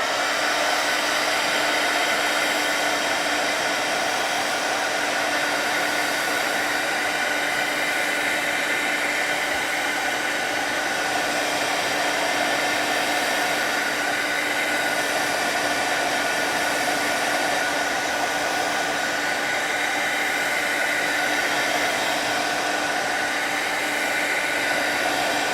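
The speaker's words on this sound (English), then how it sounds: "let's hit this with a heat tool." A heat tool blows steadily over a watercolor holiday card, a continuous loud whooshing hum that holds at an even level from start to finish with no talking.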